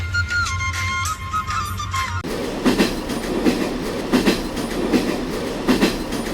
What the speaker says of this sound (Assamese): ট্ৰেইন আহি গ'ল গাইজ আমি ট্ৰেইনত বহি ল'লোঁ